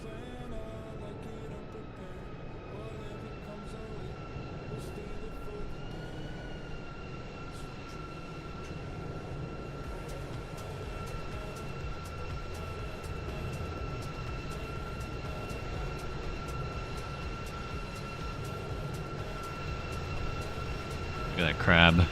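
Steady cockpit drone of an airliner cruising at 19,000 feet in Microsoft Flight Simulator, a continuous engine hum with faint tonal whine, with a voice talking over it throughout.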